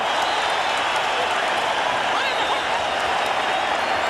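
A boxing arena crowd roars as a fight breaks out during a professional bout, a dense, continuous wall of cheering and applause at high level, with no single voice standing out.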